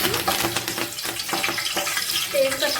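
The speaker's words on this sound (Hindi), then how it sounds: "सबसे पहले मैं यहाँ पर कड़ी पत्ता का तड़का लगाऊंगी।" Steady, loud crackling sizzle of leaves dropped into hot oil, close up, with bursts of spattering throughout.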